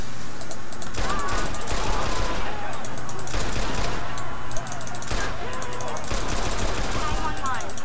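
Machine gun fire in the Watch Dogs video game: loud, sustained automatic bursts of rapid shots with short gaps between volleys, dense and close, with faint game sounds underneath.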